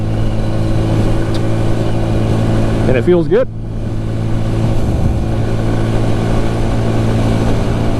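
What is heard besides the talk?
CF Moto Papio 125 motorcycle engine cruising at 50 mph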